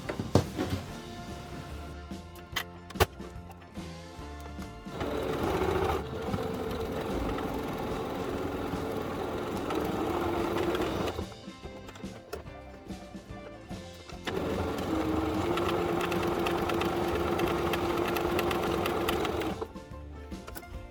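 A sewing machine topstitches fabric for a notebook case in bursts: a short stop-start run of stitching, then two long steady whirring runs separated by pauses, close and clear.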